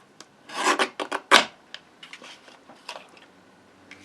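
Paper card stock being trimmed on a paper trimmer while making a card, a close, dry rasping slide with a couple of louder cutting strokes near the start followed by quieter scraping bits.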